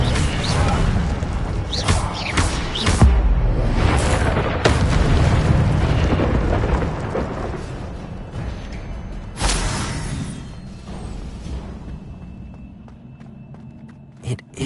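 An Incendio fire spell in the video game Hogwarts Legacy erupts as a series of heavy whooshing booms and bursts, loud at first, then thinning into fainter crackles and mechanical rumbles toward the end.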